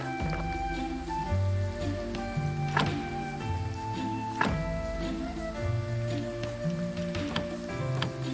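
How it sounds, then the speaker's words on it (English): Rain falling in the video game Graveyard Keeper, a soft steady patter blended with game music and occasional ticking effects, moderately quiet throughout. "It's raining again."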